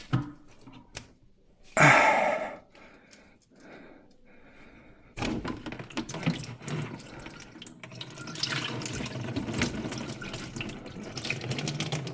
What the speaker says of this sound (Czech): tady asi pustím vodu